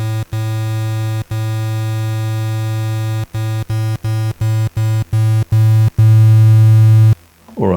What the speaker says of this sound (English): in which case you get quite a nasally sine wave that actually looks more like a square wave